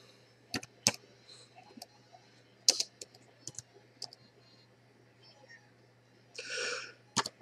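A single sneeze bursts out near the end, loud and breathy, after a stretch of scattered sharp clicks like keyboard typing in a quiet room.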